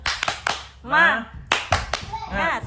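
Sharp hand claps in a quick rhythmic pattern alternating with a voice chanting between them, close and moderately loud.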